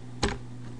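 A single sharp click of a computer keyboard key being pressed, brief and quiet against a faint steady hum.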